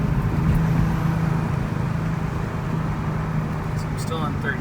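A 2000 Audi B5 S4, converted back to all-wheel drive, pulls hard in third gear, its engine a loud, steady low drone heard from inside the cabin along with road noise.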